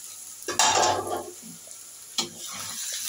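A spatula stirs eggs sizzling in a hot pan, with two distinct scraping strokes over a soft, continuous frying hiss.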